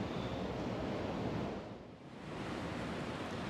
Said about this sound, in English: It's a windy day here on top of the deck